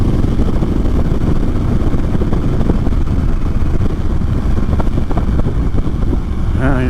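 Harley-Davidson Sportster S engine rumbling steadily while riding, loud and continuous with heavy wind buffeting over the whole stretch.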